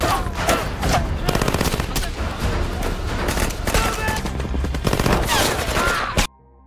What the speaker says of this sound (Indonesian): Baku tembak terus terjadi